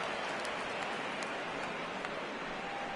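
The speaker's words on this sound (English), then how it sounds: "we've mentioned the conditions aren't ideal with the rain coming down" Steady rain pours down on a baseball stadium during a Mariners–Indians playoff game, a continuous dense hiss with occasional sharper drops, faint and even throughout.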